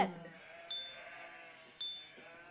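Sheep bleat twice in a children's counting game, two short separated calls, soft and somewhat distant, set against a quiet backdrop.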